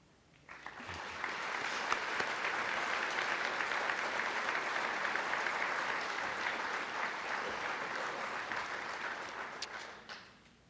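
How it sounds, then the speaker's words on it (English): A large audience at a police awards ceremony breaks into applause, dense clapping swelling in quickly and holding steady for around nine seconds before dropping away near the end. "I would just ask that you stand so we can give you a round of applause too."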